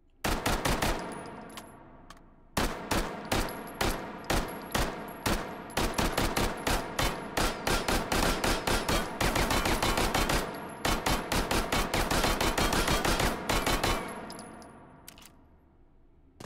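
A Phantom 9 with a 50-round drum magazine fires in Hot Dogs, Horseshoes & Hand Grenades in VR: loud rapid bursts of automatic fire with short pauses between strings, metallic clinks, then a fading tail.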